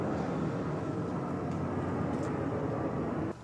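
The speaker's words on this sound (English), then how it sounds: "We're gonna wait for this airplane." Airplane passing overhead near a small cottage, a steady broad roar that holds loud throughout and cuts off abruptly at the end, with no talking.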